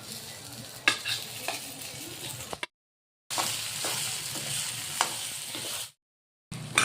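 Beaten eggs and cooked rice stirred together in a hot pan: a loud, continuous sizzle with a spatula scraping through it. Two short silent gaps break the sound.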